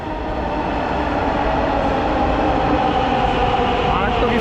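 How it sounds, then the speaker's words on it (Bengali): Dhaka metro rail train running, a steady loud rumble and hum of the carriage in motion heard from inside, constant throughout with faint rail noise and no pauses. "আজকে মেট্রো রেলে করে যাচ্ছি"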